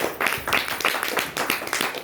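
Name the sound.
audience clapping for DXN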